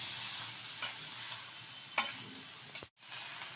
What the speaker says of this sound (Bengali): এবার ভালোভাবে আমি ভাতটা নেড়ে নেব সবজির সাথে।